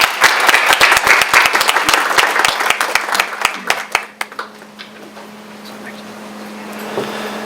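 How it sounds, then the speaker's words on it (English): Audience applause welcoming a speaker at a talk in Boston, steady loud clapping for about four seconds that thins out to a few scattered claps and then fades into room hum. "welcome him with a big round of applause"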